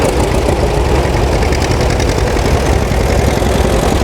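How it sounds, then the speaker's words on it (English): A John Deere A tricycle drawbar tractor engine idling steadily up close, a loud, even low chugging rumble with constant vibration and no pauses. "Typical drawbar tractor."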